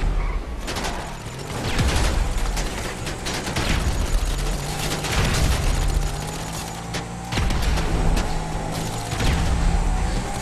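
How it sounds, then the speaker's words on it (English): Gunfire in the video game GTA Online: repeated sharp shots and rattling bursts, with heavier booming blasts among them, all loud and close over a steady game background. "Oh, they're shooting."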